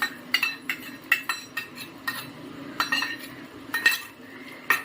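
A spoon stirs fried okra in a pan, giving a run of light metallic clinks and scrapes in an irregular rhythm, close and moderately quiet, with no talk.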